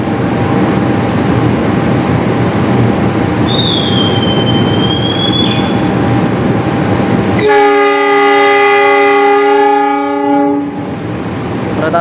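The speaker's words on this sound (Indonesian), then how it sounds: "Kereta api Arjuna Express kembali diberangkatkan dari stasiun Sidoarjo menuju tujuan akhirnya stasiun Malang" A loud, close rumble and hiss of the Arjuna Express passenger train departing Sidoarjo station, Indonesia, bound for Malang, then a sustained multi-tone train horn blast cutting in near the end.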